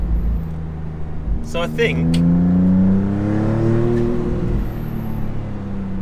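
A Maserati MC20 Cielo supercar driven roof-open along a twisting road, its engine droning steadily, then climbing in a smooth rising rev before settling, with someone talking over it.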